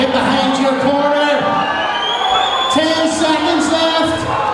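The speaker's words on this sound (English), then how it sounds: "Give him one last cheer, ladies and gentlemen." Crowd cheering and whooping at a white collar boxing match in Belfast, loud and sustained, with surging shouts and yells throughout and a host's voice calling over the noise.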